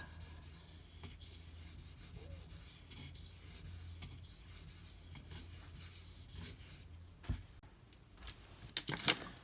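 Spyderco Delica knife with SG2 steel being sharpened on a stone, giving a quiet, steady scraping rasp of repeated strokes that stops partway, followed by a few faint clicks and handling knocks.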